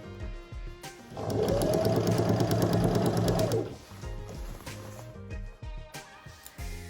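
A sewing machine stitches a seam on palazzo trousers in one steady, fairly loud run of about three seconds, with quieter handling noises before and after it.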